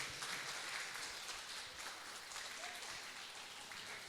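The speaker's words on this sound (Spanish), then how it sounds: "Un aplauso, por favor." Applause from a church congregation during a baptism recognition, a steady fairly quiet wash of clapping lasting about four seconds with no talk over it.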